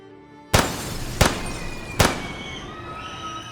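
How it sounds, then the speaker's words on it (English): Three sharp gunshot-like bangs, loud and evenly spaced about a second apart, echo through a school hallway, each blast ringing out into a lingering reverberant tail. "The sound of gunfire echoes through the hallways"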